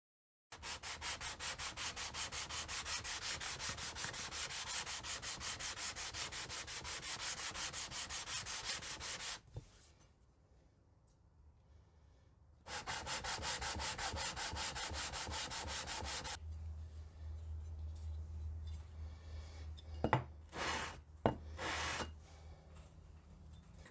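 The sole of a rusty block plane, mid-restoration, is rubbed back and forth flat on abrasive in long continuous rasping strokes, with a quiet pause partway through before the scrubbing resumes, followed by a few sharper knocks and scrapes.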